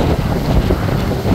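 Hurricane Nicole's strong wind roars steadily against the microphone in Florida, a dense, rumbling rush with no pauses, close and loud throughout.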